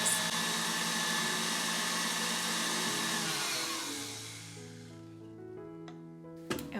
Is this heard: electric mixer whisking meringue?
yes